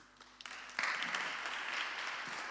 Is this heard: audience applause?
yes